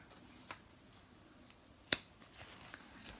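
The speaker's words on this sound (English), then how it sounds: "I'm just gonna start cutting close to the edge of the bag without cutting any of the stitches" Scissors snip through the fabric of a stitched zipper bag close to its edge: a few sharp, isolated cuts, quiet and near, spaced well apart with no talking.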